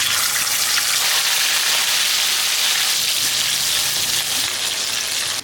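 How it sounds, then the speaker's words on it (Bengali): Yogurt-marinated chicken fries in hot white oil in a kadai wok, giving a loud, dense sizzle that stays steady and close throughout, with no one speaking. "বন্ধুরা, তেল গরম হয়ে গেছে, মাংসটাকে ভেজে নেব।"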